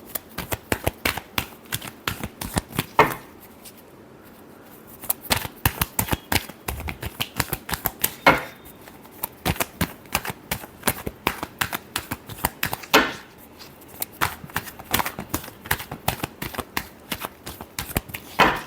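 Tarot cards being shuffled close up make rapid, crisp riffling clicks in repeated bursts, each burst separated by short pauses, with no talking over them.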